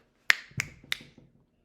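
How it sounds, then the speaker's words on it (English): Three crisp finger snaps, close and dry, in an even rhythm about a third of a second apart, with nothing else around them. "Finger snaps."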